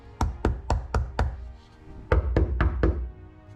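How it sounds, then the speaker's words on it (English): Hard knocks on the floor panel of a C6 Corvette fitted with sound deadening: four dull, solid thumps, a short pause, then four more, close and loud with no talking. "And I'm knocking it hard."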